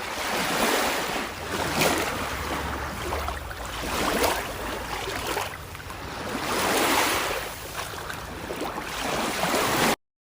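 Sea waves surge and wash in repeated broad swells at a fishing spot, each rush of surf rising and receding every couple of seconds, close and fairly loud with wind buffeting the microphone and no talking.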